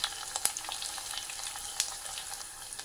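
Garlic, turmeric and asafoetida frying in oil in a pan while being stirred, a soft steady sizzle with a few sharp spoon clinks near the start and again midway, close and fairly quiet, no talking.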